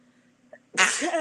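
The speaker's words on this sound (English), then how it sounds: "Oh my gosh, I gotta sneeze." A single sharp, loud sneeze bursts out after a quiet moment of faint background hum, with a brief intake of breath just before it.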